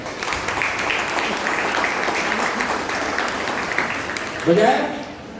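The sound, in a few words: congregation applause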